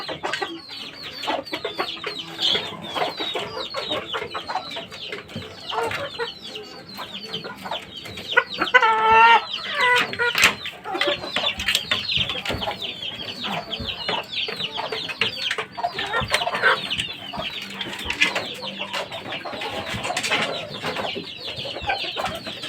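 Fighting roosters, hens and chicks on a Filipino farm cluck and peep in a busy, irregular stream of calls, some near and some farther off, with brief louder bursts partway through.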